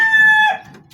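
A pure Possum Sweater gamefowl rooster crows once at close range, a loud, bright call that holds steady and then tapers off within a second.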